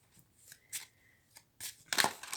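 A deck of tarot cards being shuffled by hand in short riffling bursts, close and quiet, separated by brief pauses, with a louder flurry at the end; no talking.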